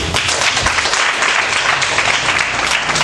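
A crowd at a religious conference in Lomé, Togo, bursts into sustained, dense applause that fills the full three seconds at an even, loud level.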